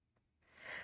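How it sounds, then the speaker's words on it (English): A single person's sneeze, quiet and close: a faint breathy intake swells into a short burst of rushing, hissy air at the end. "Okay, so I sneezed."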